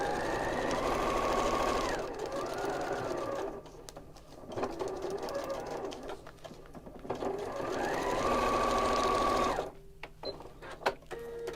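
Sewing machine stitching quilt block seams, two long bursts of rapid mechanical whirring with a slowing pause between, close and loud, ending in softer clicks.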